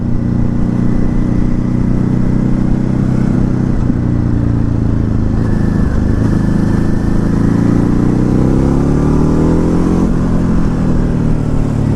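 A brand-new 2019 Ducati Hypermotard 950 motorcycle on a test ride, its engine a steady loud drone with gentle rises and falls in pitch, close and continuous with wind rush underneath.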